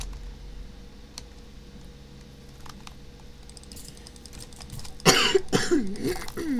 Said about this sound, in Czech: Já vím, že furt kašlu,